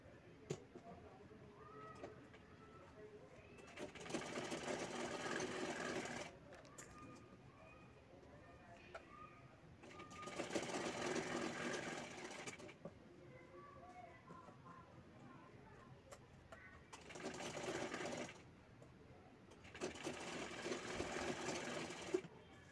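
A sewing machine top-stitches a cut, turned fabric piece in four bursts of steady whirring separated by pauses, with birds cooing and chirping faintly throughout.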